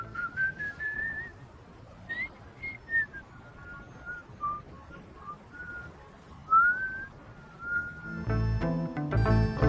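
A man whistles a tune, a thin wavering melody of sliding notes over faint background noise, ending in a burst of louder music.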